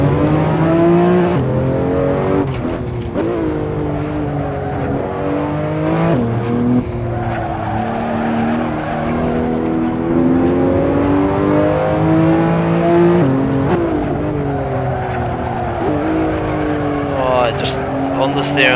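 Porsche race car in Assetto Corsa holding a loud, steady engine note with pitch sweeps as the throttle lifts and reapplies, tires squealing through corners, while someone talks over it.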